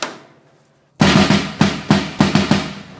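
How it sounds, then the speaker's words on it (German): A deep, fat snare drum, a 14 x 14 inch floor tom used as a snare, is struck five times after a second of fading ring, each hit loud and punchy with a rattling body, in an uneven rhythm with no voices. "Tiefe fette Snare Drum"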